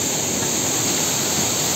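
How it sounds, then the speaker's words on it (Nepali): A mountain river rushes beneath a swaying bridge on a trek in Kanchenjunga National Park, producing a loud, constant roar of flowing water with no break. "पानीको बहाव हेर्न सक्नुहुन्छ"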